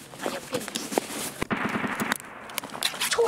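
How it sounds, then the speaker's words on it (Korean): Distant gunfire in Escape from Tarkov, a scatter of quick, fairly faint cracks and pops with a short burst near the middle, heard amid quiet ambient shuffling. "총소리!"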